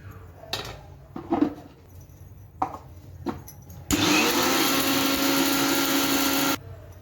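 A kitchen mixie grinds sieved homemade nalugu pindi bath powder, a loud continuous whir of nearly three seconds. Before it come a few soft knocks and handling clicks, and the motor then cuts off abruptly.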